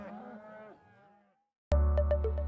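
Moos from cattle, a long, sagging low call that fades out, then after a pause a loud, harsh bellow broken by several sharp clicks or bangs, like a calf reacting in a handling chute.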